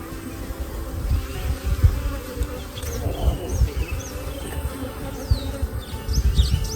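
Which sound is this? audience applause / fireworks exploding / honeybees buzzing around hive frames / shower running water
honeybees buzzing around hive frames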